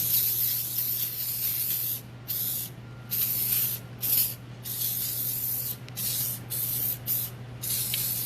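Engine brightener is sprayed onto a motorcycle engine in a series of short, close hissing bursts separated by brief pauses, over a low steady hum.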